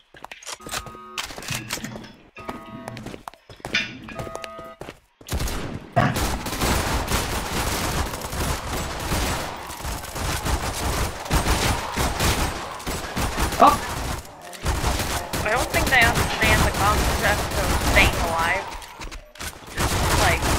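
Glock 18 fire in a chaotic Roblox zombie game: dense, continuous automatic gunfire bursts crowd the mix for most of the stretch after a few scattered shots at the start, with game noise and voices mixed in.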